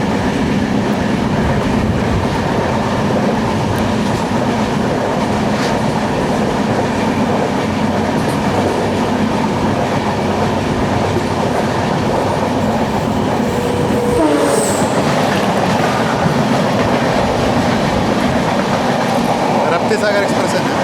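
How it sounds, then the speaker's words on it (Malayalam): The Sagar Express train runs along rails in Kerala, a continuous loud rumble with rhythmic clatter and hiss, heard from close by, with a brief squeal partway through. "സാഗർ എക്സ്പ്രസ് തന്നെ."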